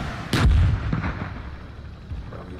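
A tank cannon in a tank simulator game fires once with a loud, deep boom, followed by a rolling, fading rumble and faint distant thumps, with no one speaking.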